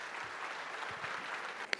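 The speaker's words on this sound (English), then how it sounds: "It was naturally a big round of applause." Seminar attendees give a quiet round of applause after a talk on corporate tax, heard as a soft, even patter of clapping from a small audience, with one sharp knock near the end.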